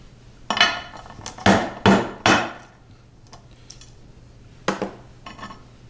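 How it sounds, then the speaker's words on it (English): A hammer striking inside a 4-inch metal conduit to crush purple diopside stone, several sharp ringing metallic blows close by, four in quick succession, then a pause and two more. "hammer, 4-inch conduit to keep the stuff from flying all over the place when you hit it"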